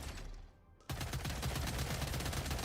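Rapid automatic gunfire from a dart-generating weapon in Killing Floor 3 bursts in after a brief quiet gap and continues as a loud, dense stream of shots to the end.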